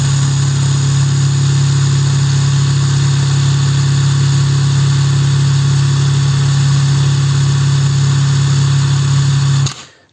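A SHIDOKU G-1000 cordless 1000 Nm impact wrench runs at free speed, a loud steady motor whine holding a constant pitch for about ten seconds before it cuts off abruptly.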